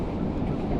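Wind gusting on the Oregon coast buffets the microphone in a loud, steady low rumble, close and unbroken, with no speech.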